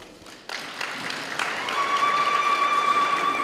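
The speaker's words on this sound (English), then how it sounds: "I guess they all are supposed to be supported or given a round of applause." Audience at a regional address breaks into applause, starting sparse with a few isolated claps, then building into a denser, steady round that grows slightly louder.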